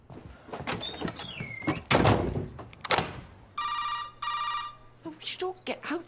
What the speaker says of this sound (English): Can you not hear the phone?